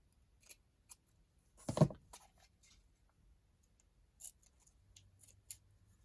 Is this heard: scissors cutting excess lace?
yes